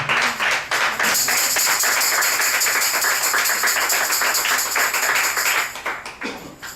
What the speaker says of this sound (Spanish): Denle un aplauso entonces al Señor.